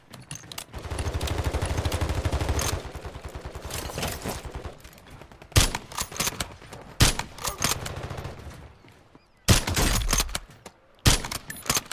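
Rapid automatic gunfire from a shooter video game, with sustained bursts up front and then sharp separate shots and short bursts, loud and close.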